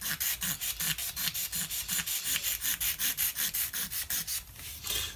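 A blade scrapes rhythmically along the wooden neck of an inexpensive guitar, about four quick strokes per second, close and steady, with no voices.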